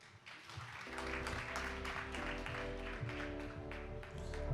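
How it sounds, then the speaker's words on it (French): An audience at a forum on gaming gives applause, steady clapping running under loud background music with a sustained beat throughout. "Merci de l'applaudir."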